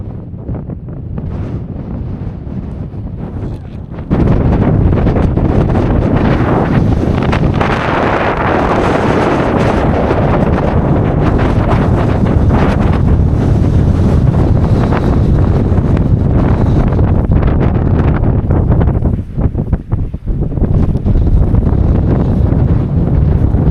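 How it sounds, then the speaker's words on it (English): Strong wind of about 30 to 35 mph blows across a wild camp and buffets the microphone in loud, continuous gusts. The roar jumps up after a few seconds and stays rough and close throughout, with no speech. "just measured the wind speed. It's about 30-35 mile an hour, gusts constant 25, something like that."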